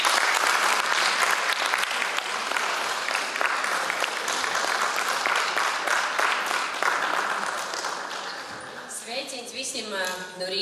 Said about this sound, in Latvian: Sagaidam ar aplausim jūs.